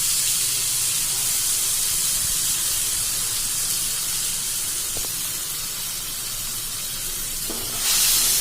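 Mustard, chili and ginger paste sizzling in a pan with potol (pointed gourd), a steady, fairly loud hissing sizzle that runs unbroken with a few faint clinks and a brief surge of hiss near the end.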